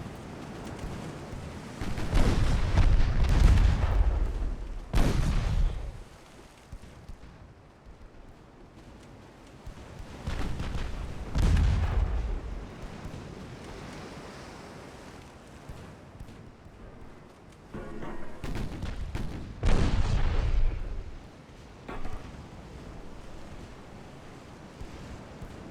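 Ship ammunition detonations in a 1904-era naval battle game near Singapore: several deep, heavy booms swell and fade every few seconds over a steady wash of sea and wind noise, fairly distant and muffled.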